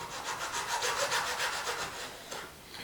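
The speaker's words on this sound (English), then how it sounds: "just saw down till I feel it cut through that thin piece of spruce" A hand saw rasps through a thin piece of spruce in quick, steady back-and-forth strokes, close up and fairly quiet, slowing near the end.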